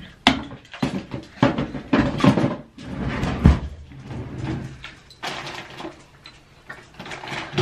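Bathroom drawers and cabinet doors being opened and shut repeatedly during a quick cleanup, a close series of wooden knocks, slides and bumps with some rattling contents, no talking.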